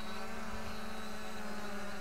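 FIMI X8 SE drone flying toward a landing pad, a steady loud propeller whine and drone hum holding one pitch throughout, with no talking.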